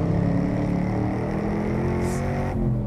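A 2013 Chevrolet Camaro muscle car holds a power slide, its engine producing a sustained loud drone with shifting tone that ends in a brief throttle change near the end.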